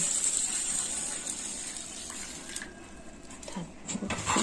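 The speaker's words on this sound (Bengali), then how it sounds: "এবার জল দিয়ে চালটা ভিজিয়ে দিলাম" Water poured over rice in a bowl to soak it for curd rice, a continuous gushing splash that eases slightly toward the end.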